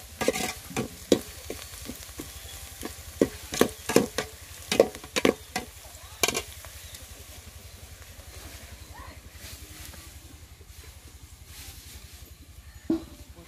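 Drumstick leaf and pearl millet flour puttu is stirred and fried in oil in a village kitchen, giving a steady soft sizzle with repeated scraping stirs and clicks close by.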